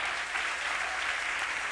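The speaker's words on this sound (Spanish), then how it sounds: "Le damos una ofrenda de aplauso" A church congregation breaks into sustained applause as an offering of praise, a broad, steady roar of many hands clapping throughout with no distinct speech.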